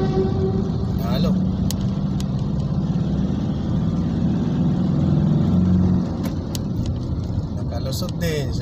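Slow car traffic on a road produces a steady low engine rumble and hum of idling and creeping vehicles, heard close and continuous, with a brief clatter partway through.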